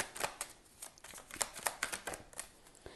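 A deck of tarot cards being shuffled close by, quick irregular riffles and soft slaps of card stock in bursts, fairly quiet with no talking.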